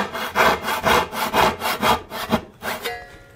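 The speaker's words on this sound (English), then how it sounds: "What I suggest is grabbing a carcass saw and cut down close to the line." Carcass saw making relief cuts in a wooden board, a quick run of about ten rhythmic rasping strokes, close and loud with no talking.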